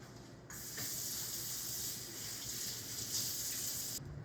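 Hands are washed at a kitchen sink under a steady stream of tap water that starts suddenly, runs for about three and a half seconds and then cuts off.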